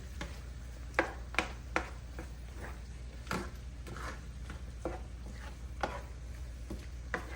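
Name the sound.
stirring pepper around in hot oil in a pot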